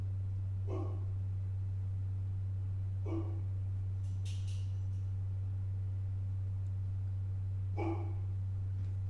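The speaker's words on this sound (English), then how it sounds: "My dog is barking." A dog barks three times, short spaced yelps from another room, over a loud steady electrical hum, with no talking.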